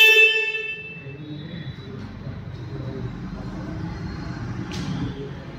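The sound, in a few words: KTM Duke 390 motorcycle horn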